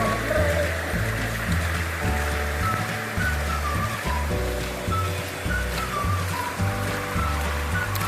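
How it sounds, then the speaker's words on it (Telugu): Steady, continuous rush of flowing water fills a forest scene, with a low tonal hum running underneath. "బట్ వాటర్ సౌండ్ వస్తుంటే ఎంత ప్లెజెంట్గా ఉంది తెలుసా అండి"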